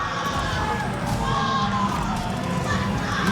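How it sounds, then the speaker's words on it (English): Loud, sustained crowd noise from a packed Street Fighter 6 tournament audience at Momocon 2025, cheering and shouting continuously for a Zangief player during game 5, with a steady roar and scattered yells throughout. "Keep cheering louder, y'all."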